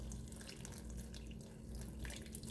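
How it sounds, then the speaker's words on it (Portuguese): Water pours steadily into a cooking pot to cover rolled grape leaves, a continuous splashing rush close by with no talking. "Agora nós vamos cobrir com água."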